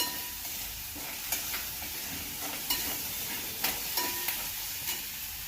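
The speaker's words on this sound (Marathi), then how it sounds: "हे एकदा व्यवस्थित परतून घ्यायचं।" Wild vegetable being stir-fried with garlic and chili in a hot pan: a steady sizzle with close, irregular scraping stirs and a few sharp spatula clicks, no voices.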